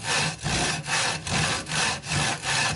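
A hand saw cuts through timber in long, straight, even strokes, each pass a loud rasp close by, separated by brief gaps in a steady back-and-forth rhythm of about six strokes.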